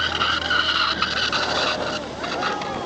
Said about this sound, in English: Can you hear that awful squeal of the wheel?